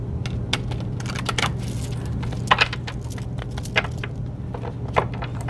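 Tarot cards are shuffled and cut by hand, giving quick crisp riffles and sharp taps in irregular bursts over a low steady hum, close and with no speech.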